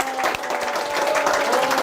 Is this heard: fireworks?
no